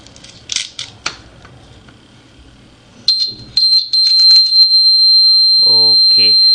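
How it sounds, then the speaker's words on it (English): A few clicks and taps, then a shrill electronic buzzer sounds, steady and loud, cutting out briefly before continuing, with a voice speaking near the end. "Next I'll connect a buzzer."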